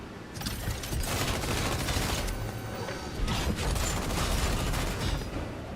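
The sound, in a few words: mech machine gun fire in Mecharashi video game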